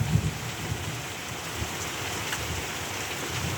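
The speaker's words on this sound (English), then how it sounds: "This is an unbelievable amount of rain." Heavy rain pours steadily onto an outbuilding roof during a hailstorm, a dense, continuous roar of drops with a brief knock near the start and no voices.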